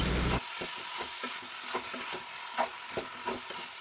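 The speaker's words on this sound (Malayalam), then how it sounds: "ഇനി മസാലയായിട്ട് ഇതൊന്ന് വഴറ്റിയെടുക്കാം." Mashed koorkka (Chinese potato) being sautéed with masala in a pan, a steady soft sizzle under repeated rhythmic spatula strokes and scrapes, close and alone.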